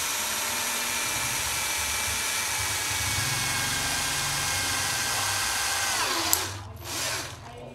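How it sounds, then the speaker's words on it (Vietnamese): A power drill with a 2 mm bit bores a hole while repairing an electric fan bearing, a steady whining motor drone held for several seconds before it stops and briefly spins down. "mình sẽ khoan cái mũi khoan 2 ly"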